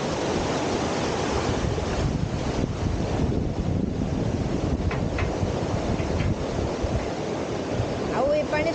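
Clean water from a home water tank runs out through a drain, a steady broadband rush of flowing water that stays loud and even throughout, with some wind buffeting on the microphone.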